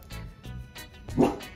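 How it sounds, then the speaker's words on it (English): Dog barking indoors in a home, a few short soft barks spaced apart at moderate distance, ending with a slightly louder yip. "My dog is running around like crazy this morning."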